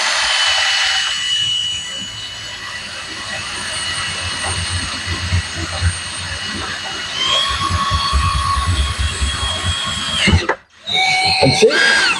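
Power drill boring a hole up through an RV motorhome roof during a solar panel mounting job, a steady whining grind running for about ten seconds, close and loud, then briefly cutting out before restarting.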